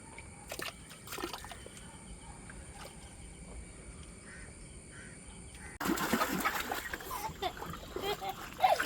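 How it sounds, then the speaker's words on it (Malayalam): Water splashes as it is scooped with a taro leaf during outdoor water play in a Kerala village, soft drips and trickles at first, then a louder run of splashing, with people talking and birds faintly in the background. "നമുക്കിങ്ങനെ ചേമ്പലയിൽ വെള്ളം എടുക്കാം."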